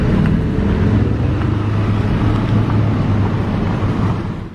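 Car rolling over a rough, broken-up road in Monaco during preparations for the Formula 1 Grand Prix, a loud, continuous low rumble and roar close to the microphone, with wind buffeting and no talk.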